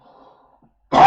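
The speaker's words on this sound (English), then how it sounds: "Oh, gonna cough again." After a near-silent pause, a single sharp cough bursts out close by at the very end.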